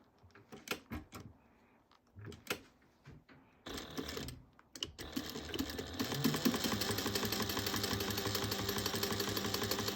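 A sewing machine top stitches along the side of a sling backpack, starting with a few short, hesitant bursts and then running in a steady, continuous fast whir close by.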